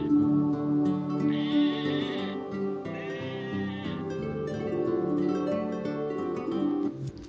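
Sheep bleating on a little isometric farm in the game Dreams, a run of wavering, nasal cries that overlap each other and repeat steadily over soft background tones.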